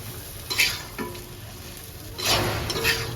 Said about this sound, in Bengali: আলুটা দিয়ে একটু নেড়ে নিই